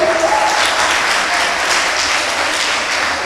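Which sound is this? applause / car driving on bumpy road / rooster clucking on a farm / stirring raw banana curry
applause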